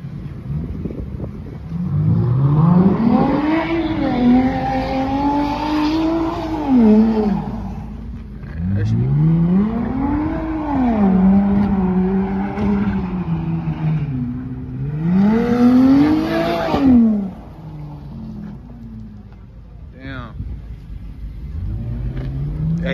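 Car engine revving hard at a car meet, rising and falling in three long loud pulls with possible brief tire spin, engine close and prominent, with voices faintly underneath near the end.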